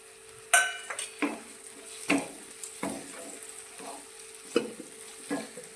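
Chopped tomato stirred into a pan of sautéed garlic, chili and onion, giving a soft steady sizzle with a run of utensil scrapes and clinks at an even rhythm, close by, with no voices.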